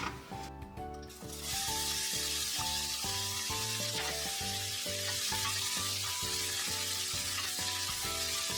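Onions sizzle in olive oil in a pan as a loud, steady hiss that comes in after a quieter first second. A faint repeating tonal hum runs underneath.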